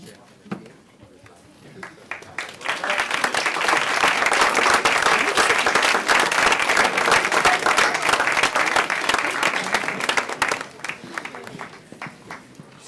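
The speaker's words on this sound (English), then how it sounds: "So another round of applause for Outdoor" Audience at a school awards ceremony breaks into sustained, loud applause that swells, holds for several seconds, then tapers off into scattered claps.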